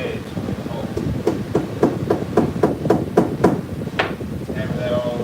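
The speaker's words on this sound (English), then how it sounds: "Hammer that all the way through." A metal punch is hammered through an otter pelt, about eight evenly spaced sharp strikes in a quick steady rhythm, close and fairly loud over a voice talking in the background.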